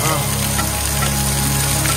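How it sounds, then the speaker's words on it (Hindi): Heavy rain pouring down in Bujumbura, Burundi on a rainy day near the beach, a steady dense hiss of falling water filling the whole two seconds with no break. "ये देखिए सोहेल भाई नहा रहे हैं, बारिश में मजा ले रहे हैं।"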